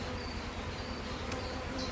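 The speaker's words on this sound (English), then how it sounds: "There's plenty of bees though. A lot of bees." A dense, even hum of many honey bees swarming around an open double deep colony hive, close and continuous, with no talking.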